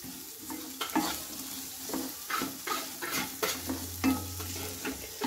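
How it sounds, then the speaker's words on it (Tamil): Sweet potato pieces with turmeric and spices sautéing in a pan give a soft sizzle and frying hiss, with scraping stirs and light clinks of a spoon against the pan, no talking. "இப்போ இதெல்லாம் கொஞ்சம் பச்சை வாசனை போகிற வரைக்கும் வதக்கிக்கிடுவோம்."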